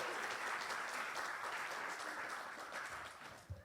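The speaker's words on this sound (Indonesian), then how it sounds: "Boleh kasih tepuk tangan lagi buat Michael." An audience at a church service applauds Michael: steady, dense clapping at moderate level throughout, thinning slightly toward the end with a brief thump near the close.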